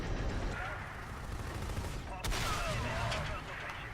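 Bursts of gunfire from AI allies during a convoy defense in the shooter Section 8, fairly quiet rapid shots mixed into busy battle noise, with one sharper crack midway.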